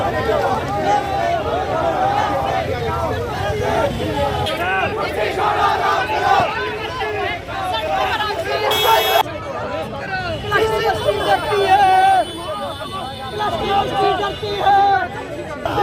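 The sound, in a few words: student protest crowd chanting slogans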